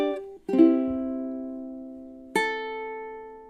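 A ukulele plays a short phrase: a few plucked notes and strums that ring out clearly and decay in a quiet room, with no voice.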